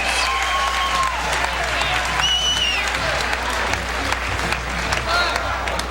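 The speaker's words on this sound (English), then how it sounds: "how about a nice round of applause for Kevin Rooney?" Boxing crowd at the Picciotti vs. Rooney fight applauding ringside, continuous dense clapping with cheers and shouts, a low hum beneath and brief voices over the din.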